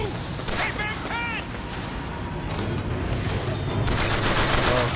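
Machine gun fire in BioShock Infinite, a sustained rattle of rapid shots with booms behind it, building louder toward the end, mixed with other game sounds and brief vocal noises.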